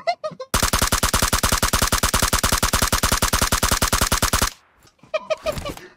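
Automatic gunfire in the mobile battle-royale game PUBG Mobile, a long, rapid, loud burst of evenly spaced shots, with a voice briefly before and after.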